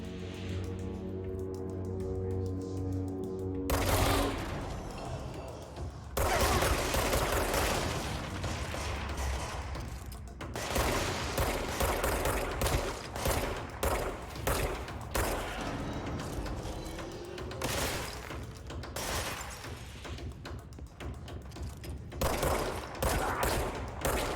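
Video game Control: dense rapid gunfire with bursts of automatic fire and heavy booms, loud and continuous through most of the clip after a brief quieter opening with a droning tone, with no speech over it.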